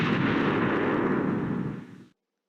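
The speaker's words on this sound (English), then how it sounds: "That is a poor explosion" A loud, sustained explosion blast in the fighting video game Sonic the Fighters (Blitz Hyper Edition), a broad rumbling burst that holds steady for about two seconds before cutting off abruptly.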